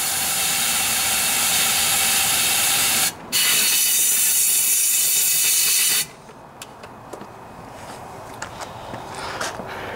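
Compressed air blasting through the carburetor of a Troy-Bilt lawnmower with a Honda engine, a loud, close, continuous hiss broken by a brief gap, then cutting off to quieter faint clicks and handling noises.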